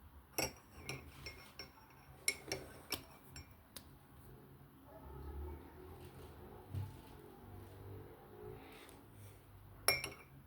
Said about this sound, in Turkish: 3 tane dökelim güzelce karıştıralım.